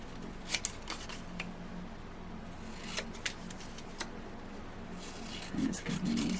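Scissors cut a Hunkydory papercraft card into three pieces: a few crisp, close snips spaced a second or two apart, quiet overall, with soft paper rustling toward the end.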